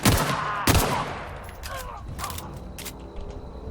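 Gunshots in The Outer Worlds video game, with two sharp loud cracks early on followed by fainter mechanical clicks and a lighter shot or two.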